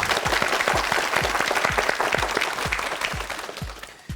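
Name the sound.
studio audience applause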